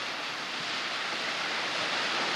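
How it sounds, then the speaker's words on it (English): Water pours down a constructed backyard waterfall over a diagonal rock, a steady, dense rushing hiss heard close and unbroken, with no voices over it. "how nice that little sideway water that flows down and catches that diagonal rock"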